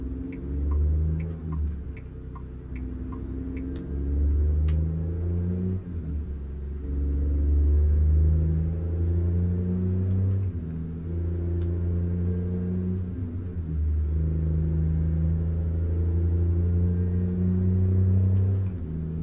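An International 9900i truck in American Truck Simulator gives a deep, steady diesel rumble that rises and falls through gear changes, with a faint whine above it and no speech.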